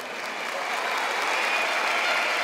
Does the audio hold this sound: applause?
yes